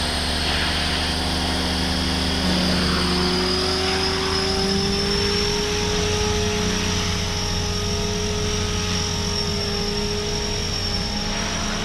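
A Blade 500 RC helicopter flies nearby with a constant high rotor and motor whine, its pitch sliding and rising as the throttle changes. No voices are heard.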